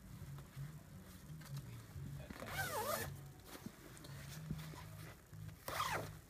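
A zipper on a Marmot down sleeping bag is pulled in two quick rasping runs, close and distinct over a low background hum.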